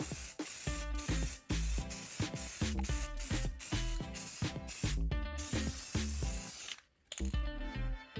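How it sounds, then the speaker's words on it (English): An aerosol can sprays white paint onto small metal shelf pins for IKEA Billy cabinets, heard as loud, close hissing bursts repeated in a steady rhythm with brief pauses between them. "In order to better conceal the shelf pins, you can spray them white."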